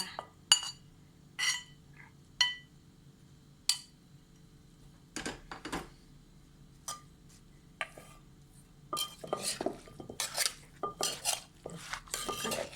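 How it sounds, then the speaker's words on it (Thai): A ladle clinks against a mortar bowl while rice noodles are stirred into spicy Thai papaya salad, giving irregular sharp taps and scrapes that grow into a busier, denser clatter toward the end, with no voices. "เอาทัพพีคนๆแบบนี้"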